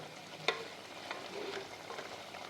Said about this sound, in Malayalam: നമുക്കതിനെ ചിക്കനെ ഒന്ന് ഇളക്കി കൊടുക്കാം